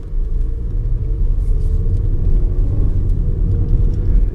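An Audi A3 with automatic gearbox shifted into drive pulls away, a steady low engine and road rumble holding evenly close by throughout, with no talk.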